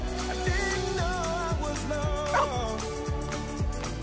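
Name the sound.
dog barking and whimpering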